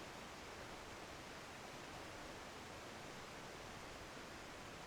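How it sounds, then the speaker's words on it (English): A waterfall in Final Fantasy XIV rushes as a steady, unbroken wash of noise, even and fairly quiet throughout with no other sounds. "there's a goddamn freaking waterfall thing"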